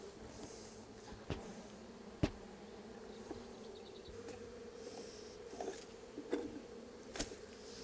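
Honeybees hum in a steady, soft drone around a hive as a swarm is transferred from a nucleus box into a full hive outdoors, with occasional faint clicks and knocks.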